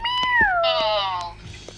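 A single cat meow in a Roblox video game, with a falling, drawn-out pitch, bright and close, then a few soft clicks as it fades.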